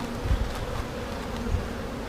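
Honey bees buzzing around an open hive during an inspection, a soft steady hum with faint bumps of handling, no speech.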